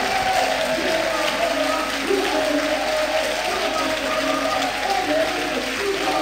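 A church congregation applauds and cheers the Holy Spirit, a dense, steady wash of clapping and crowd noise that stays loud and even throughout.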